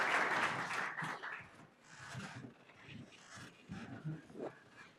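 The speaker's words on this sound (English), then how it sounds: "You can clap. Clapping's great." Audience clapping at a company panel event on AI, a brief burst of applause that fades and returns unevenly, mixed with murmuring voices and scattered cheers.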